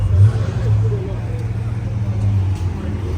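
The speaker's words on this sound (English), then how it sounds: "And the RS6 is also moving out now" An Audi RS6 pulls out at a fuel station during a night car meet in Mexico, its low engine rumble steady and moderately close, with a crowd babbling in the background.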